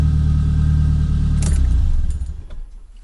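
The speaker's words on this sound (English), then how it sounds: "Key is in the ignition." Car keys jangling as a key goes into the ignition of a Nissan 200SX parts car, a brief bright metallic rattle over a loud, steady low engine hum that cuts off toward the end.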